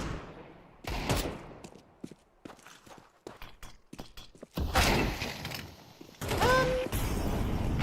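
Pistol shots in a Counter-Strike match, with sharp, close cracks scattered irregularly among clicks and game effects, and a few denser bursts toward the end.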